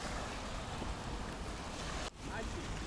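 Sea waves wash onto the shore at a seaside beach near Odesa in the early morning, a steady broadband surf wash with wind buffeting the microphone, briefly dipping near the end before surging again.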